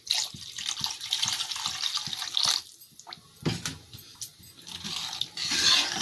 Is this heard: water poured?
yes